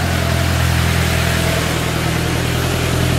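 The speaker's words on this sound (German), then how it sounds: "Lassen wir das Auto kurz vorbei," A car drives by outdoors in a natural setting, a loud, steady engine drone and road rumble holding at close range throughout, with no voices.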